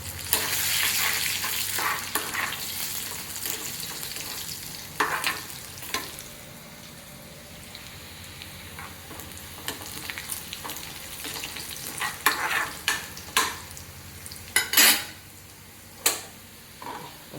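Mustard seeds tempering in hot oil in a frying pan for a traditional curry, a soft continuous sizzle punctuated by scattered sharp pops and crackles that grow more frequent toward the end, no talk.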